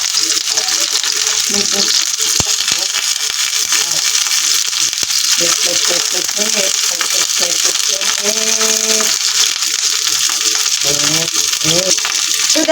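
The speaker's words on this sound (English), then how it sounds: "I call this crispy cabbage roll. Because it's only fried, crispy." Cabbage rolls deep frying in oil make a loud, constant sizzling hiss close by, with a person talking over the frying.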